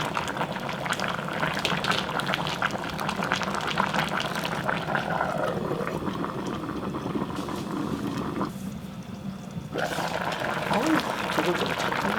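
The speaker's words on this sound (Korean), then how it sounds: "두글두글 잘 끓는다" A pot of braised squid stew with garlic bubbles and simmers steadily, with soft gurgling and popping continuing throughout, and a brief quieter stretch near the end.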